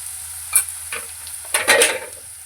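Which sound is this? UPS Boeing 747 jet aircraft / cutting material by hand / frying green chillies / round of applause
frying green chillies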